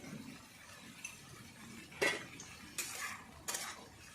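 Green banana pieces with spices and salt are sautéed in a pan, with a faint background hiss and a few sharp clinks of a spoon against the pan's rim spaced a second or so apart.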